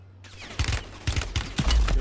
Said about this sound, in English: I'm getting shot at by the last three teams